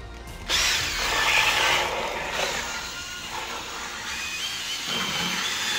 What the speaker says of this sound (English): I'm just using a little whip that's made for doing paint mixture and an electric drill